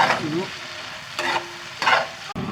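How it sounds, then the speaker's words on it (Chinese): Sichuan pepper, bird's eye chili and green chili stir-fried in a wok, a close sizzling rush that swells in bursts as the spatula tosses the peppers. "花椒也要多， 小米椒、青椒，给它炒，把这辣椒先炒熟"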